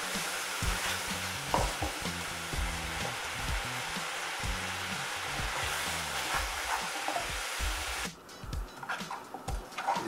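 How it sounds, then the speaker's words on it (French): Onions fry and caramelize in a pan, a steady sizzle with repeated low spatula scrapes and stirring knocks; the frying turns sharper and more crackly near the end, with no talk. "on voit l'oignon qui relâche tout son jus. Et on va attendre que ça recaramélise"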